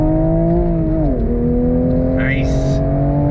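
A 2023 Toyota GR Supra with a manual gearbox and turbo engine pulls hard in second gear, its steady loud engine drone rising in pitch as it accelerates, with a brief whooshing turbo hiss near the end.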